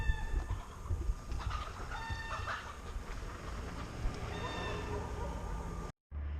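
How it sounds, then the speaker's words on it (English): Chickens cluck and squawk in agitation as a dog scares them on a countryside property near Fruska Gora National Park in Serbia. The calls come in scattered bursts over constant outdoor background noise. "The dog's scaring the chickens."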